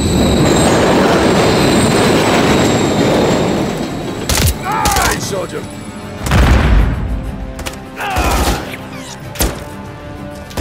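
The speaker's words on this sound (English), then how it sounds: "Another train coming." Train rolling past in Call of Duty: Modern Warfare III, a steady loud rumble of wagons and wheels, followed by sharp metallic squeals and clanks as it moves on, with a voice briefly speaking partway through.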